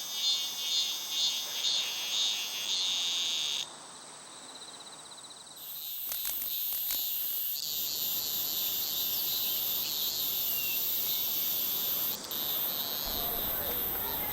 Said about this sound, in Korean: 누구나 한 번쯤 매미 소리가 참 시끄럽다고 느낄 때가 있죠